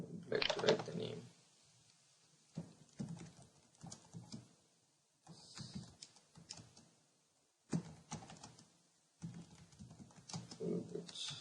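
Typing on a computer keyboard in scattered bursts of quick, close clicks with pauses between them, mixed with soft handling noises.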